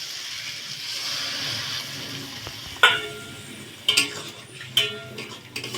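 Half a bowl of water poured into a pan of frying potol, a steady soft sizzle broken by several sharp clinks and splashy bursts as it hits the hot pan.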